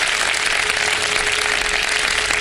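Studio audience applause on a Ramadan iftar television show: a dense, steady wash of clapping that stays at an even level from start to finish with no talk over it.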